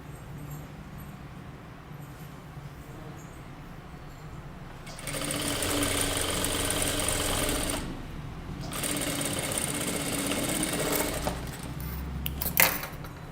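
A sewing machine stitches the folded one-inch hem of a kurta, starting after a quiet stretch and running in two steady, fast, buzzing bursts with a short pause between them.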